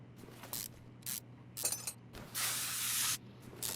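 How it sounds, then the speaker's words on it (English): Short bursts of aerosol lubricant hiss onto a car suspension bolt during a Chrysler 300C build, several quick sprays followed by one longer continuous spray, close and clear over a low steady hum. "Gotta spray that bolt there"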